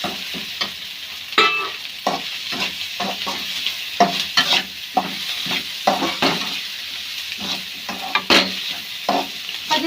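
A spoon stirs egg into pasta in a hot pan over a constant sizzle, with repeated close scraping and clacking strokes in an uneven rhythm and no talking.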